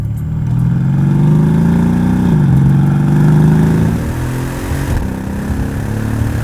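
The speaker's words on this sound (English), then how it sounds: "Really violent gear changes there when you're at like full throttle" A Mercedes S63 AMG engine roars loudly at full throttle, its note climbing steadily and then dropping sharply at each of two abrupt gear changes, with no voices over it.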